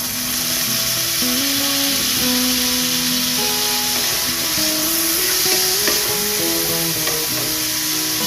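Pork sizzles steadily and loudly in a hot pan as a splash of vinegar goes in, a constant frying hiss alongside a faint melodic tone in the background.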